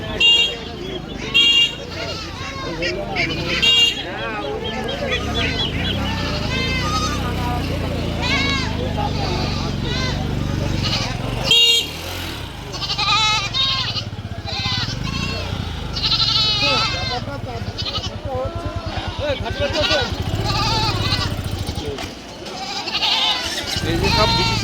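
Goats bleat again and again amid a busy outdoor goat market crowd, with people talking loudly all around and more animal calls in the background.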